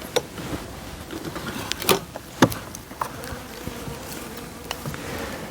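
Honeybees drone at a hive being readied for overwintering. A faint, continuous buzz is broken by sharp close clicks and taps of handling, with no talking.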